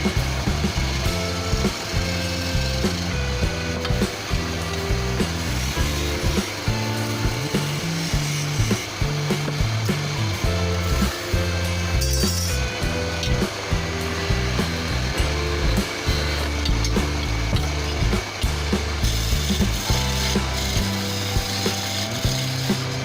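A woodworking machine cuts a rectangular wooden piece, its loud, steady mechanical grinding and rattling running continuously with a dense rhythmic texture throughout.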